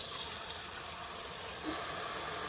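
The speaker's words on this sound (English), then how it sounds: "get this water filled up here" Tap water runs steadily into a container for wet sanding a 1964 Chevrolet Impala model car, a continuous close hiss that grows slightly louder near the end, with no voices.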